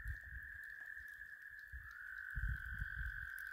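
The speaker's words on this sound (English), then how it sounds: "there's a load of frogs" Frogs croaking around water on a fishing trip, a faint continuous trilling chorus heard from a distance, steady and low, with soft rustling and handling noise underneath.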